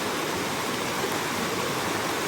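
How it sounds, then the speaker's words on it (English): Shallow mountain stream flowing over the tops of rocks at a trail crossing, a steady close rushing wash of water with no voices. "The water's just going over the tops of the rocks."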